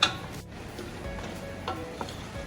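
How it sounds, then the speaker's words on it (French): Ground meat sizzling with onions in a frying pan, a quiet continuous crackle with light stirring taps and a soft clack at the start, heard up close. "I start to add my meat"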